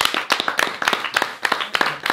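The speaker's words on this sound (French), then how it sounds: "Bon, franchement, on peut l'applaudir." Scattered applause from a small group after a freestyle rap battle verse, with uneven, close claps forming a short burst of clapping.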